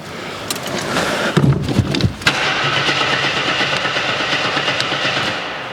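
An abandoned AMC Eagle car engine cranks in short, uneven bursts, then catches and settles into a steady, loud running roar close by, with no talking.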